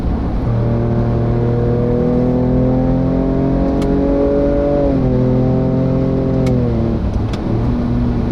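A 2023 Ford Ranger Raptor twin-turbo dual cab ute engine drones loud and throaty with a steady harmonic whine, pitch shifting and settling as the 10-speed downshifts and revs rise; no one speaks.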